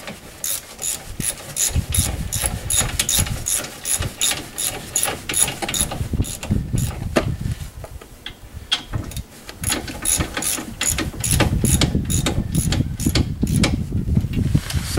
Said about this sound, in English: tighten them up nice and evenly. Sucks the bearing right in.